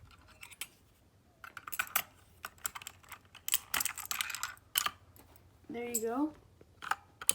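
Clicky keystrokes on an RK61 keyboard fitted with Cherry MX Blue switches, in scattered bursts and irregular runs, close and sharp, with someone speaking briefly partway through.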